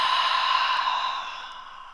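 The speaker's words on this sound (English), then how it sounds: "Nice long exhale out." A long, slow exhale during a stretching workout, a soft breathy hiss that stays steady and then fades gradually over about two seconds, close and alone.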